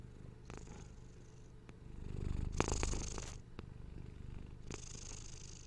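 A cat purrs up close, a soft rhythmic rumble that swells and fades across the clip, with a few brief brighter noises breaking in.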